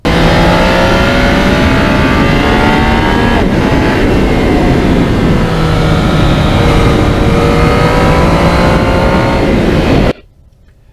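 A 2020 Yamaha MT-09 motorcycle ridden on cold winter roads, its engine loud and close with rising and falling revs and steady wind rush, cutting off sharply near the end.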